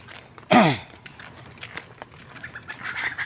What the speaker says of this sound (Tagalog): May manok pala dito.